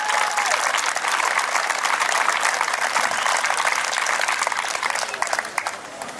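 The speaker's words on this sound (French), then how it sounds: "On peut les applaudir," Sustained applause from an audience at an outdoor company picnic, a dense, steady wash of clapping hands filling the whole stretch and tapering slightly at the end.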